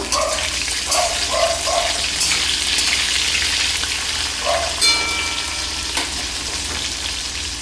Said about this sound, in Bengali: পেঁপে দিয়েও কিছুক্ষণ ভেজে নিব